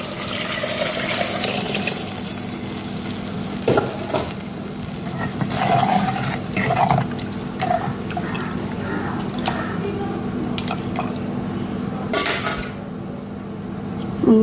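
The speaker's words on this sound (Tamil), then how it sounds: "கரைச்சி வச்ச புளி மிளகாப்பொடி உப்பு கரைச்சி வச்சுருக்கோம் இல்லையா ஊற்றிக்கலாம்" Dissolved tamarind, chili powder and salt water are poured into a simmering fish curry in a pan, giving steady sizzling and bubbling with occasional drips and pot clinks, close by, with no speech.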